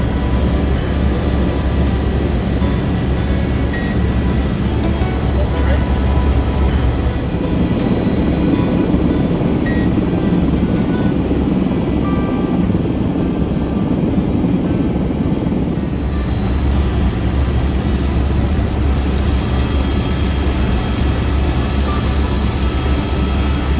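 Steady loud drone of a helicopter in flight, heard from inside the cabin on a ride, continuous rotor and engine noise throughout with no talking.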